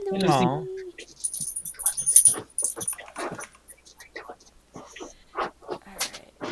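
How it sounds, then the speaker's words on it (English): A dog gives a short, high, wavering whimper at the very start, close and clear, before people talk quietly over soft rustling and a faint jingle. "my dog's here and she wants attention and she's not getting it"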